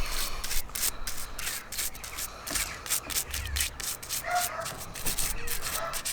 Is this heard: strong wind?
no